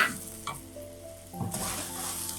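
Grated ginger, garlic and sugar sizzle in a frying pan for an orange chicken dish, a loud hiss at the start easing off, then rising again with a brief stirring scrape before settling into steady frying.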